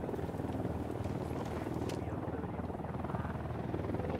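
A helicopter in the tactical shooter game Ghost Recon passes by as a steady, loud rotor drone with dense low-frequency thumping throughout, close and continuous with no talk over it.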